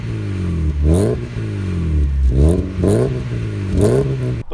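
A Mazda MX-5 with an aftermarket exhaust manifold revs up loudly several times in a row through its exhaust, each rise in pitch followed by a drop back to idle.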